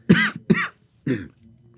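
Two sharp coughs follow each other quickly, then a softer third cough, close to the listener and loud, with brief quiet gaps between them.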